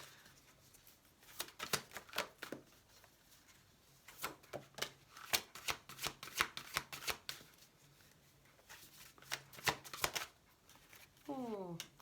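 Druidcraft oracle cards being shuffled by hand, repeated crisp riffling bursts in an irregular rhythm, close and soft, with a voice speaking at times.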